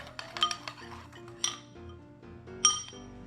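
Persimmons are mixed with sugar and cinnamon in a bowl for pie, heard as a few quiet, separate clinks and taps of a utensil against the bowl with faint scraping between them.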